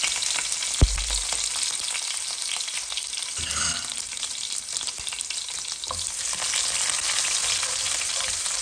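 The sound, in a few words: garlic cloves frying in hot oil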